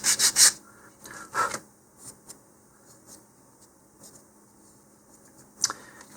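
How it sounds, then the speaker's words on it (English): Sandpaper rasps against the wooden tip edge of an Estes Little Joe I model rocket fin in a few short, close scrubbing bursts, separated by quieter pauses. "we're going to sand off this little bit here to match the trailing edge"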